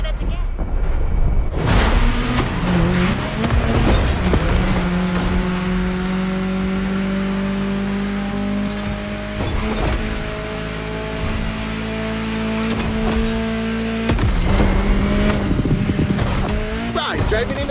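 Car in The Crew Motorfest driving through a state capital, engine revving and droning with rising and falling pitch, tire noise and a few thumps, while a voice talks over it.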